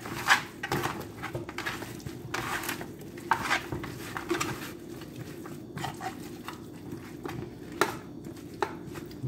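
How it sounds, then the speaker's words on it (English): Seasoned chicken wings being tossed and mixed by hand in a bowl, giving repeated close, wet squelching and light clattering thumps at an irregular rhythm, with no talking. "Mix it up really good."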